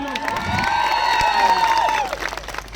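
A crowd at a political rally in Gujarat breaks into loud, sustained applause and cheering with whoops, close and continuous for a couple of seconds before tapering off, with no speech over it.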